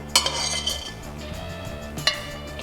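A utensil scrapes and clinks against a pan while spreading food evenly across it in a kitchen cooking segment, with two sharp metallic knocks standing out over a steady low background hum.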